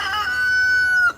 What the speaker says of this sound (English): This rooster was getting beat up in the neighbors or in the main pen